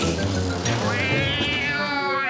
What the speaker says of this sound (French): Ah, saleté de chat!